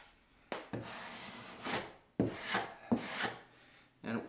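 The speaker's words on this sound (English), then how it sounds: "you just want to pull the mud out like this" A drywall knife scrapes mud over tape covering a crack, in a series of rough, rasping strokes with sharp onsets, close and moderately quiet, each stroke a second or less apart.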